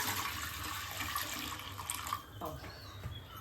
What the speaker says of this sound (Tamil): அதுக்கு தேவையான தண்ணி ஊத்திக்கலாம்